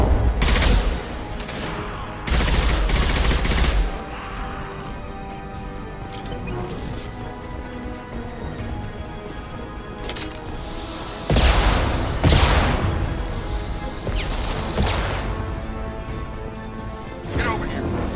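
Firefight gunfire in the video game Mass Effect, loud bursts of shots at the start and again near the end, with a steady hum of game ambience and voices in between.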